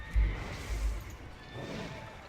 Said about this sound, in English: When do we get off this horse?